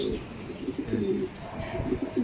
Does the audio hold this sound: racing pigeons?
yes